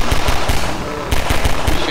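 Rapid automatic gunfire in the first-person shooter Half-Life 2 blasts loud and close, bursts of sharp shots with a brief lull midway, and a voice faintly mixed underneath.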